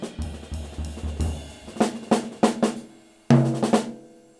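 Jazz drum kit playing a four-bar phrase built from two-bar and one-bar figures: quick low tom or kick hits, then sharp cymbal-accented strikes and a loud crash near the end, close and lively.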